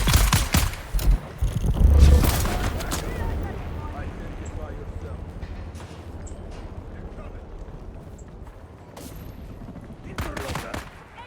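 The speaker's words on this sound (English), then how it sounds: "Tossing grenade!" A grenade blast in the Dune Awakening video game, a loud close burst amid rapid gunfire near the start, then quieter scattered shots and a second cluster of cracks near the end, with a voice talking under the fighting.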